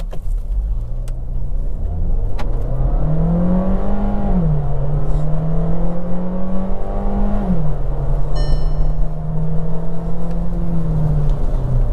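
A 2024 Skoda Slavia 1.5 sedan with a DSG gearbox accelerates hard in normal Drive mode, its engine note climbing loudly and steadily with brief dips at the gear shifts, no voices.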